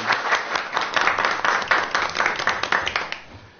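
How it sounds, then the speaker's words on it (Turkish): Indoor audience applause at a live stage event, a dense, steady round of clapping from many hands that lasts a few seconds and fades slightly at the end, with no voices over it. "Alkışlarla oyuncu arkadaşlarımızı davet edelim."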